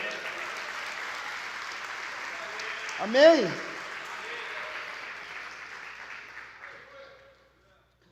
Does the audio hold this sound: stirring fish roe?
no